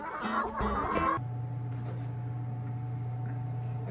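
Chickens on a ranch cluck in a short burst near the start, followed by a steady low hum with faint background noise.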